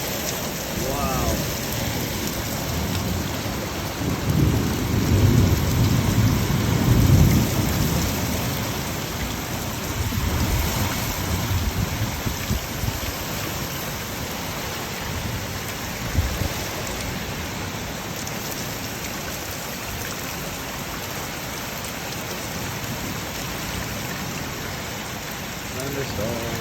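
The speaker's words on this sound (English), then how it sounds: "Thunderstorm." Heavy rain pours down in a steady roar during a thunderstorm, with sheets of water running down a driveway. Deep thunder rumbles swell in the first seconds, and voices speak faintly underneath.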